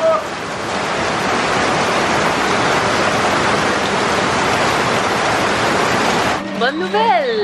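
Heavy rain pours in Costa Rica, a dense, loud, steady wash of noise that cuts off near the end as brief voices and other sounds break through.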